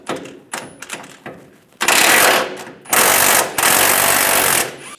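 A ratchet wrench with an 18mm socket works the bumper step pad nuts on a 2007-2013 Chevy Silverado 1500, first in short clicking strokes, then in long loud bursts of rapid ratcheting.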